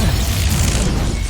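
The Expulso explosion spell in Hogwarts Legacy bursts as a loud, dense roar of blast noise that fills the whole moment without a break.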